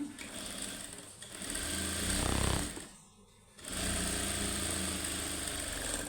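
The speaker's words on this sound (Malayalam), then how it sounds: "ഇനി ഇതിൻ്റെ മുകളിലേക്ക് ഞങ്ങൾ ഒരു സ്റ്റിച്ച് ഇടണം 1/2 ഇഞ്ചിലേക്ക്" A sewing machine stitches a half-inch seam, running loud and steady with a brief pause in the middle before resuming its continuous hum.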